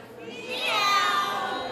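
A person at a community Passover Seder imitates a cat with a long, drawn-out meow during a group song, rising and sustained over the murmur of a gathered crowd.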